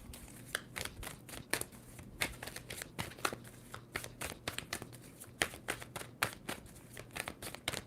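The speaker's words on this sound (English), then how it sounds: "Two more shuffles for Virgo" Tarot cards are shuffled by hand in a steady series of crisp riffling snaps, close and distinct, repeating roughly twice a second over a faint low hum.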